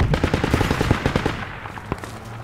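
Machine gun fire in the military shooter Project Reality: rapid bursts of loud automatic shots close by, then a few scattered single shots as the firing tapers off.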